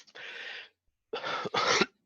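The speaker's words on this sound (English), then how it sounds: "Sorry, I got to clear my throat." Two or three rough, throaty bursts separated by short pauses, close to the microphone, like someone clearing their throat or coughing.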